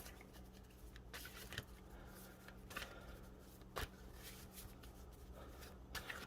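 A tarot card deck is shuffled by hand, giving soft papery riffles and brief sharp slaps in quiet bursts over faint background hiss, with no talking.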